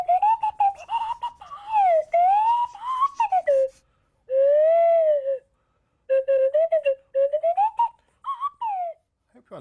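Major Clanger of The Clangers speaking in a whistle voice: a series of sliding, warbling whistled phrases in a low register, broken by short pauses, loud and close.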